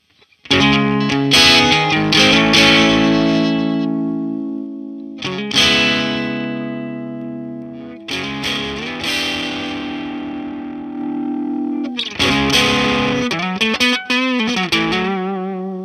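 Electric guitar played through a distortion pedal in AmpliTube 5 amp-simulation software, cranked up: four loud, sustained fuzzy chord phrases with brief gaps, each ringing out and decaying before the next strum, with no talking.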